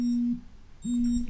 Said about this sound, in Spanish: Había puesto otra alarma por error